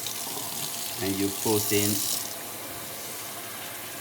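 Warm tap water runs into a sink or container for making pizza dough with dry yeast, a steady hiss while someone briefly speaks over it.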